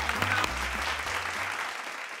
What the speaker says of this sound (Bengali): একটা হাততালি জোরে হয়ে যাক